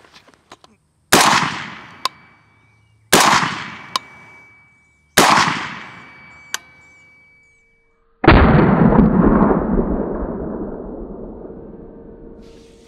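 Four loud, close shots from a PSA Sabre AR-15 rifle on a range. Three single cracks come at roughly two-second intervals, each followed by a fainter click, then a heavier blast trails off over several seconds.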